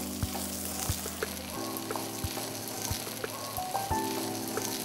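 Cashews and green chilies sauté in oil with a steady close sizzle, punctuated by periodic soft thumps of stirring, with no talk.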